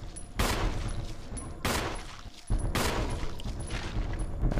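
Gunfire in the Resident Evil video game: three loud, close gunshots spaced roughly a second apart, each ringing out into a sustained roar, with no voices over them.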